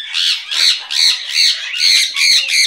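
A pet parrot squawks loudly and close by, six harsh, raspy calls in a steady rhythm, with no talking.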